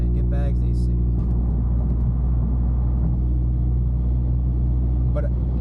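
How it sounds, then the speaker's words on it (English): A catless Toyota Camry in manual mode drives at night through New York City traffic, its engine droning steadily and close from inside the cabin. A brief higher voice-like sound rises near the start. "we're gonna put it in manual mode, do some downshifts, and hopefully the car is warm enough so you guys can hear how the downshifts sound"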